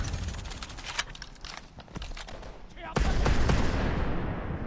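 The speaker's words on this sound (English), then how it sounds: "I am suppressing fire." Gunfire rattles through a Call of Duty: Advanced Warfare firefight, dense bursts and booming shots layered with explosions, loud and continuous, swelling sharply toward the end.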